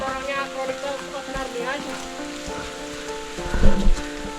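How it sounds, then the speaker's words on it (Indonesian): Rain falls through a dense mountain forest on a steep trail, a steady close patter with a brief louder splash near the end. "Bener hujannya."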